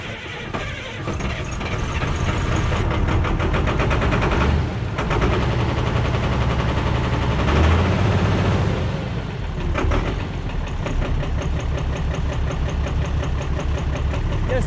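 A single axle dump truck's engine runs loud and steady throughout, a dense continuous rumble with no voices over it.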